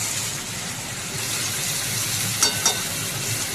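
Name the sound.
stirring ridge gourd and potatoes with onions in a pan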